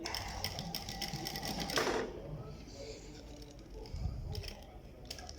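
A flat-bed straight-stitch sewing machine sews a zipper pocket onto a jacket, a close, steady rapid whir of stitching that stops partway, followed by quieter handling and light clicks.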